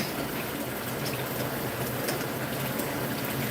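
Milk trickled into a pancake-consistency batter while cooking a Southern soul dinner, giving a continuous close pouring and splashing wash with faint liquid gurgles throughout.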